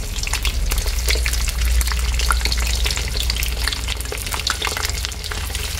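Dried fish frying in hot oil in a home kitchen, a loud, close, continuous crackling sizzle with dense sputtering pops throughout and no talking.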